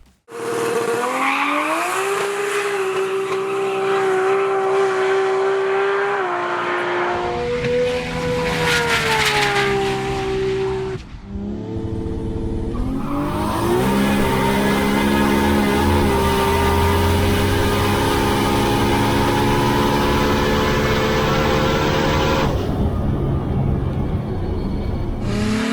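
Turbocharged drag race car with a turbo 400 gearbox on 40 PSI boost, about 1,000 horsepower, at a drag battle event: loud, sustained engine roar rising through gears, with a brief break and a second run, close and continuous.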